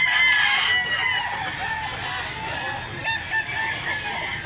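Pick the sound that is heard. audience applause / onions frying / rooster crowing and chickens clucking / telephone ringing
rooster crowing and chickens clucking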